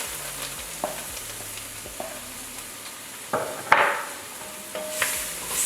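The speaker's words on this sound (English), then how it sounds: "now we can start sauteing our vegetables, aka Trinity" Onion, celery and bell pepper sautéing in hot roux for a New Orleans shrimp stew, a soft continuous sizzle with scattered scraping stirs and a louder burst as the pan is worked, no voices.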